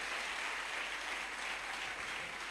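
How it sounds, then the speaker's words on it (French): A church congregation at a consecration service applauds together, a dense, steady burst of clapping heard at a moderate distance for a couple of seconds, with no speech over it. "Dá uma linda salva, bem forte para o Senhor."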